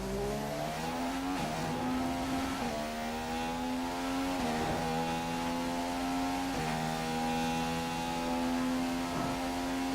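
Formula One car engine in the F1 2015 video game, revving high and steady with gear shifts every couple of seconds, loud and continuous with no talk.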